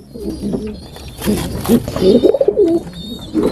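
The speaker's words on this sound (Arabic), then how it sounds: "دي الزغاليل اللي فقست اللي هم بتوع القص، هنشيلهم نشوفهم" French meat pigeons in a breeding cage, newly hatched squabs in the nest, with soft repeated cooing and low throaty calls building midway, close and fairly loud over faint background rustle.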